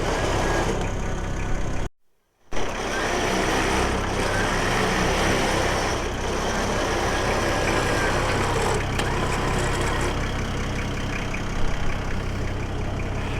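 A rebuilt Ford Rodeo truck engine running steadily at idle, a loud close rumble that drops out briefly for a moment, then continues as a constant drone.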